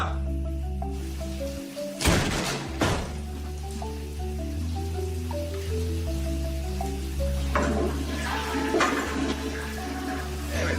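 Cold water gushes in two short, loud bursts, one early and one near the end, set against steady background music with no talking.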